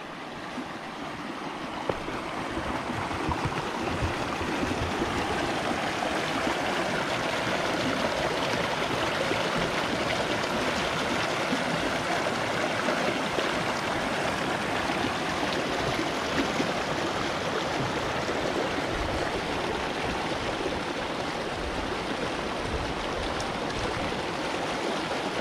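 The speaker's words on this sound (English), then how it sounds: "Oh, well, a little bit of water flowing." Water flowing in a stream at McKinney Falls in Austin, Texas, a continuous broad rushing wash, steady and fairly close, with no voices.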